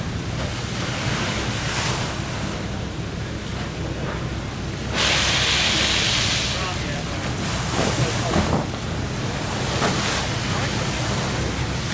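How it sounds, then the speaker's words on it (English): Water of the Woodward Fountain in Campus Martius Park, Detroit, splashes as a steady, close, broadband rush that swells louder for a few seconds midway, with no clear talk above it. "it's got to have a fountain, and here it is, the Woodward Fountain"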